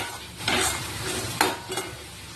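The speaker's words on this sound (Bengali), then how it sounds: "এবার ভালো করে আমি নেড়ে চেড়ে বেশ কিছুক্ষণ ধরে নাড়াচাড়া করে কষিয়ে নিতে হবে" Cabbage curry is stirred and sautéed in oil left from frying eggplant, with a steady close sizzle and a few louder scraping stirs of the spatula in the pan.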